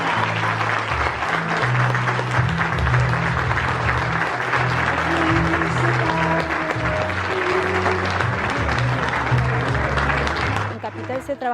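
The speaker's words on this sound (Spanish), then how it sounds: "Un aplauso muy fuerte para ella." Strong, sustained audience applause at a university graduation ceremony as a law graduate receives her degree, steady dense clapping for about ten seconds with a voice speaking over it.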